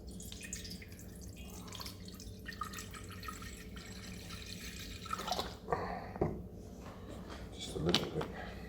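A small amount of Evian mineral water is poured while a vegan, gluten-free pasta meal is prepared: a faint trickle and a few drips under steady talking.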